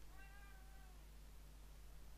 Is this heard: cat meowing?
yes